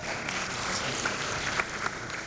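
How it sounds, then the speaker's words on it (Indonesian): Audience applause at a ceremony installing the board of PPS Putra Betawi for 2025-2030, a steady dense patter of many hands clapping at moderate distance, with a few sharper claps rising out of it. "Tepuk tangan"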